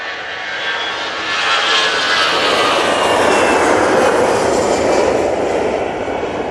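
Jet airliner, an Airbus A320-200, roaring at Manchester Airport, a loud steady broadband engine rumble that swells slightly and holds throughout, with no other sounds.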